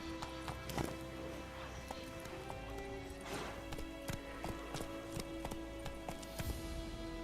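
Roach, the horse in The Witcher 3, gallops in a quick, regular clip-clop of hooves that stays close and clear, with a few louder hoof strikes over a soft musical backdrop.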